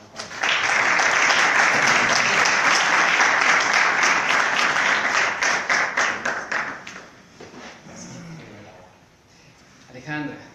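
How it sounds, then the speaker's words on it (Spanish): An audience at a book presentation breaks into applause: several seconds of full, dense clapping that thins into scattered individual claps and fades, followed by a few quiet voices. "Entonces, un aplauso, por favor"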